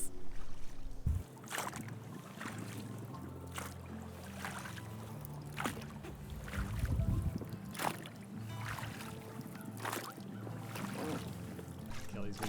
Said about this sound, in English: It's just the dinghy making weird noises.